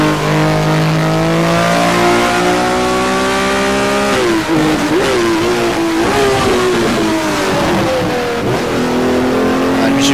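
BMW M1 Procar racing engine in the Automobilista video game, a loud, close, continuous straight-six wail that climbs through the revs, dips sharply at gear changes and rises again on a warm-up lap.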